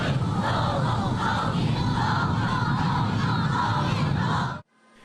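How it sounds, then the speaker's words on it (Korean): A large crowd of citizens lining a street roars and cheers continuously, waving flags and paper flowers as a presidential motorcade passes, loud and sustained before cutting off abruptly near the end. "꽃술을 흔들며 환호합니다."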